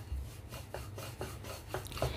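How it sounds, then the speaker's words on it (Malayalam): Bhature dough being rolled out flat makes soft rhythmic rubbing strokes, roughly two per second, faint and close with no talk. "ഇനി ഇതിനെ നിങ്ങൾക്ക് ആവശ്യമുള്ള വലിപ്പത്തിൽ പരത്തിയെടുക്കുക."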